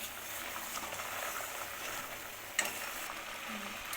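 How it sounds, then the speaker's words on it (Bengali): Semolina rasgullas simmer in sugar syrup, giving a quiet, steady bubbling hiss with one brief clink partway through. "এরকম ফুটছে বন্ধুরা এটা ফুটে গেলে রস ঢুকে যাবে"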